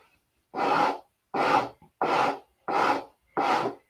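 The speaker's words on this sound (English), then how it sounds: "This is 80 grit I'm sanding with" Hand sanding wood with 80-grit sandpaper while rounding a shape: five close, even rasping strokes at a steady rhythm, each about half a second long, with short silences between them.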